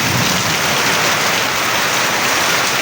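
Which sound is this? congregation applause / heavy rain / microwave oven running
heavy rain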